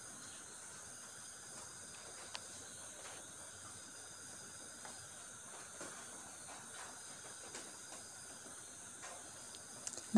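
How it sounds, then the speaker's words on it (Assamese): Pork cooking with dhekia fern greens under a lid gives off a steady, faint steam hiss that stays even throughout. A few tiny clicks break through, and no one speaks. "ঢাকন দি অলপ সিজাই লৈছো মাংসখিনি"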